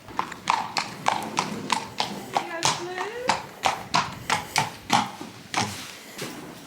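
A ridden horse's hooves clip-clop in a steady, even rhythm close by, with a brief voiced sound partway through.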